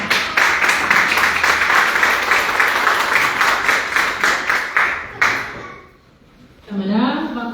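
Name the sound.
applause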